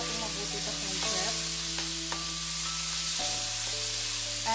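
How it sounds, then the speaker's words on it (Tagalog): Ground pork with mixed vegetables sizzles and fries in a pan in a continuous, close, hissing crackle, with a steady hum running beneath and no voices. "And let it simmer until maging golden brown yung ating ground pork."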